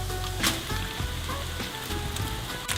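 Pasta sizzles and fries in a pan for makaroni po flotski, a constant crackling hiss with faint stirring scrapes, heard near and alone.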